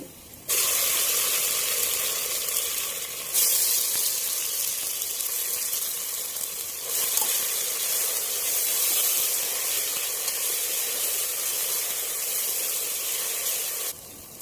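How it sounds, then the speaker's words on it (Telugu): Ground masala sizzles and fries steadily in a hot pan while chicken pulao is being made, a dense close hiss that runs unbroken for the whole stretch with no talking. "ఇదిగోండి మసాలా చక్కగా వేగిపోయింది"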